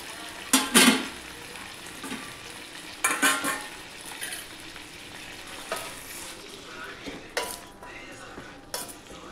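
Tomato frying in oil in a pan, a continuous close sizzle broken by several louder bursts of stirring and the clink of a utensil against the pan, no talk.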